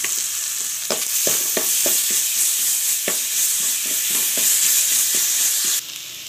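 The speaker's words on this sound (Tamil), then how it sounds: "இஞ்சி பூண்டு பேஸ்ட் போட்டுக்கலாம்" Ginger garlic paste frying with onions in oil for a chicken gravy, a loud, close, continuous sizzle punctuated by quick ladle clicks and stirring taps, with no voices.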